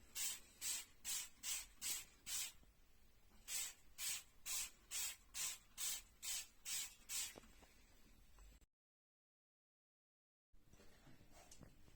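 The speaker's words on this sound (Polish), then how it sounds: "Jest to zwykły spray i nakładamy miejsca, gdzie występuje" Mold remover from a spray bottle is applied to moldy spots in quick hissing bursts, about sixteen pumps in two rhythmic runs, soft and close, ending in a pause before faint room sound.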